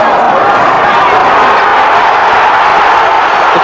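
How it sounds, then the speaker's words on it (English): A boxing crowd at the Nigel Benn versus Michael Watson fight roars and cheers loudly in a dense, continuous wall of voices that fills the whole stretch without letting up. "The crowd is just absolutely baying for Ben, aren't they"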